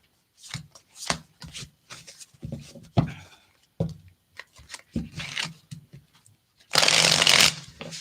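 Tarot cards shuffled by hand close up, in a series of brisk riffling bursts separated by short pauses, ending in one longer, louder rapid riffle.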